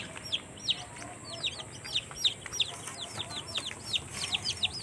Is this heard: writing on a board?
no